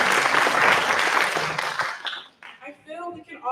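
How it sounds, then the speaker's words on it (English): A crowd applauds loudly for about two seconds at a nursing pinning ceremony, then the clapping fades out and a single voice begins speaking. "please also give yourselves a round of applause for all of your support"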